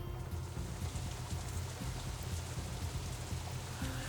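Steady rain falls outside in the visual novel game Katawa Shoujo, a dense, even patter that holds at moderate loudness throughout with no voices.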